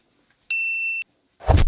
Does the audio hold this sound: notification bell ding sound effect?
yes